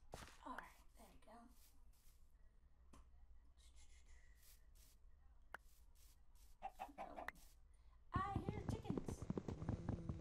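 Chickens clucking in the video game Minecraft, a few short cluck calls scattered among soft game sounds, with a person talking over part of it and a louder burst of speech near the end.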